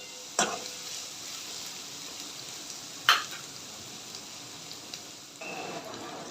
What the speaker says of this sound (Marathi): कांद्याला ना गोल्डन ब्राऊन कलर येईपर्यंत तीन ते चार मिनटं परतून घ्यायचं तेलामध्ये